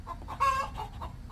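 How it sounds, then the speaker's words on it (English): Chicken clucking at a shell station: a few short squawking clucks, one louder burst in the middle, fairly close and otherwise alone. "Now we got the chicken going off."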